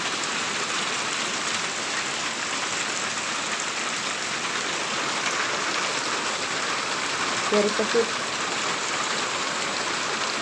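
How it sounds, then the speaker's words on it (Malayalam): Heavy morning rain pours steadily in a garden where kanthari chillies are being harvested, a dense, even hiss of falling water throughout, with a faint voice briefly audible near the end. "ഇന്ന് രാവിലെ മുതൽ കനത്ത ഒരു മഴയാണ്. കണ്ടോ, ഭയങ്കര മഴയാണ്."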